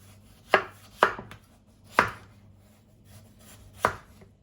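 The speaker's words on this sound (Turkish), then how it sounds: "Kızartmalık patatesimi dilimliyorum." Five sharp knife chops slicing potatoes for frying on a cutting board, spaced irregularly, close and crisp against a quiet background.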